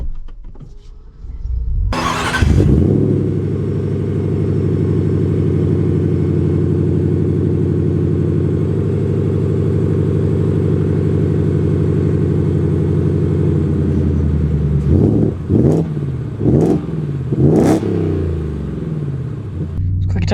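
A 2024 Ford Raptor R pickup truck fires up with a sharp burst, settles into a loud, deep, steady engine rumble, then gives several quick throttle blips near the end.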